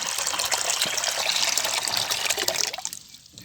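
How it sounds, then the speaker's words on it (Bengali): Water gushes steadily into a clean container, a loud close pour that runs for nearly three seconds before tapering off to a quiet trickle. "একটা পরিষ্কার পাত্রে আমরা আমাদের প্রয়োজন মতো পানি নিয়ে নিলাম"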